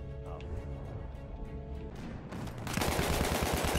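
Gunfire in the video game Battlefield 1 erupts as a dense, loud burst of shots near the end, following a stretch of layered game sound, with players' voices mixed in.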